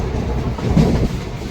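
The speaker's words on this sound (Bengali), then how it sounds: "Train Bolpur Santiniketan station enter করছে।" The Rampurhat–Howrah Sahid Express rolls into Bolpur Shantiniketan station in the evening, a close, steady low rumble with soft wheel clatter throughout the short stretch.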